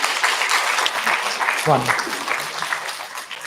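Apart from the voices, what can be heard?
audience applause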